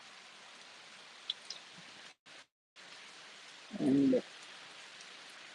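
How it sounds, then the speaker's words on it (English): Steady rain pouring down over roads and electrical poles, a continuous soft hiss throughout with a couple of short dropouts, a brief louder low burst near the end, and no talking. "rain is pouring down across the roads, electrical poles, and all those things"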